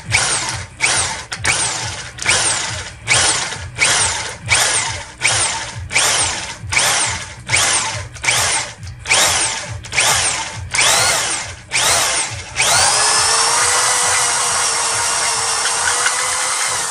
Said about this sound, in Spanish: Vamos a pasar esta broca entonces.